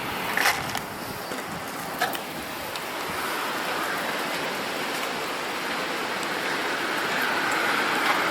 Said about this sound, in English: a sudden little mountain downpour